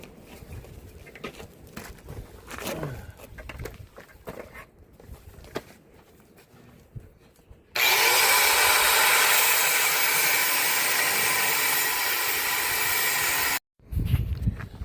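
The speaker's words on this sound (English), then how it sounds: "I'm gonna finish cutting through it and see if I can tell any difference in the two." A Porter-Cable abrasive cutter slices through landing gear: quiet rustling and handling noises first, then a loud, steady, hissing grind for about six seconds that cuts off abruptly, followed by a brief final burst.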